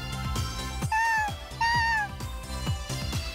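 Two clear, drawn-out meows from a cat in the video game Megadimension Neptunia VIIR, up close over steady, rhythmic in-game background music.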